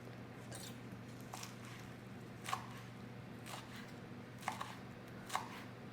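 A small kitchen knife chops fresh basil on a board, giving a handful of soft, sparse cuts at irregular intervals against a quiet background.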